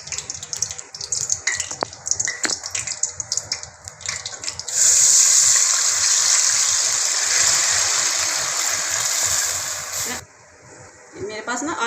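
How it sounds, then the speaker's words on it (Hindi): Water gushes steadily into a pan of hot oil with browned cumin seeds, a loud continuous rush that cuts off sharply near the end, preceded by softer clinks and stirring with a voice talking. "अब मैं इसके अंदर पानी डाल दूँगी।"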